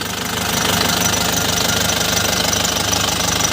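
A 2005 LS Turbo's low-mileage engine runs at a steady idle with a close, loud, dense knocking rumble and no voices over it.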